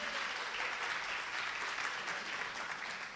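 Steady applause from an audience at a Taiwanese variety show, dense and continuous throughout, with no voices standing out.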